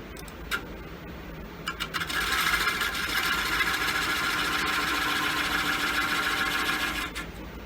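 A walnut bowl about 18 inches across spins on a wood lathe while a tool marks its surface, giving a steady whirring, scraping drone that runs for several seconds after a few short taps and then stops.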